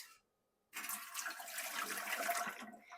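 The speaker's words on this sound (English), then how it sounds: "3 pint jars filled with warm water right now, and I'm just going to go ahead and dump those in." Warm water dumped from three pint jars into a pressure canner, a steady splashing pour that starts abruptly after a brief silence and runs for about two seconds before tapering off.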